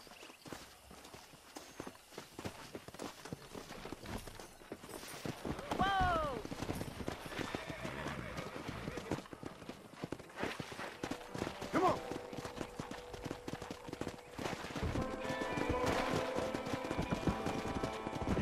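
Clip-clop of horse hooves and a brief whinny in the Western video game Red Dead Redemption, steady hoofbeats moving under game ambience with a character voice speaking over part of it.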